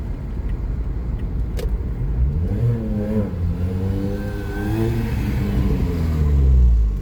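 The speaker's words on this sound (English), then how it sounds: "Who is this all up on me, riding behind me like this?" A car passes close by, its engine note climbing and shifting as it accelerates, fairly loud and unbroken with no talk over it.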